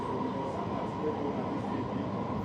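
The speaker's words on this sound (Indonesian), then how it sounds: "kita menuju ke sana menggunakan MRT dan ini adalah transportasi andalan di Singapura" Steady rumble of a Singapore MRT metro train while riding aboard, a continuous even drone with no distinct clacks or announcements.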